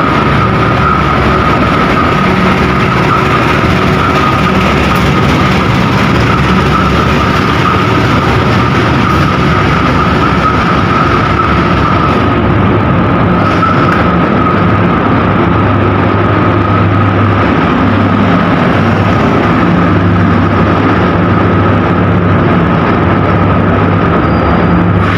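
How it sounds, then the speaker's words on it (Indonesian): A Doho commuter train departs a station in East Java, a loud, steady diesel drone with a sustained mid-pitched tone and continuous rumbling rail noise, heard up close and unbroken for the full stretch. "Pukul 3:57 kereta api komuter lain Doho diberangkatkan dari jalur"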